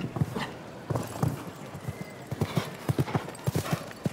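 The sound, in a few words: horse hooves clip-clopping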